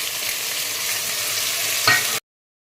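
Chopped beans and carrots sizzle and hiss steadily in a hot pan for a vegetable palak paneer pulao, with a short stirring scrape near the end before it cuts off.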